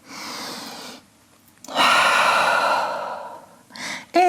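A person takes a deep breath in downward dog during a gentle vinyasa yoga flow: a soft breathy inhale, a pause, then a longer loud exhale like a sigh, with a brief sharp intake of breath at the end.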